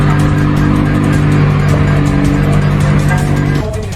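A loud car engine holds a steady, strained roar throughout, dropping off slightly near the end.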